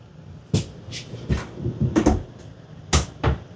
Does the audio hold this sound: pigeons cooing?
no